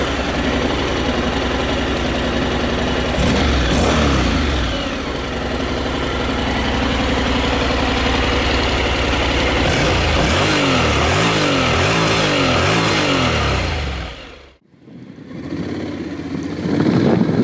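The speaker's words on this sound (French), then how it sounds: "Et on démarre." A 2014 Honda NC 750 S Integra motorcycle engine runs loud and close, idling with a deep rumble and then revving in rising surges before a brief cut and restart.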